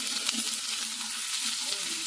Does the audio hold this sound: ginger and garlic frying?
yes